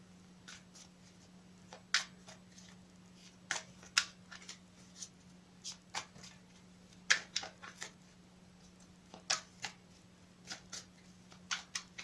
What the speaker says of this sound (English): I will shuffle it again for you on camera